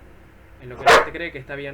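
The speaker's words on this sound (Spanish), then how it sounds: "Ese es mi perro." A dog gives a single sharp bark at close range, cutting in briefly while a person keeps talking.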